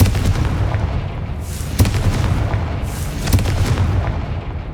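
Confringo blasting spells exploding in the Hogwarts Legacy video game, with a rapid series of loud booming blasts and crackling bursts, two larger explosions standing out amid continuous rumbling impacts.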